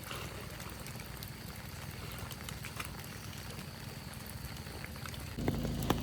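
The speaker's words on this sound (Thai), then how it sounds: "ทุกคนเอ้ยฝนตกอ่ะ" Steady rain patters and hisses across a surface, a dense continuous drizzle that grows slightly heavier near the end.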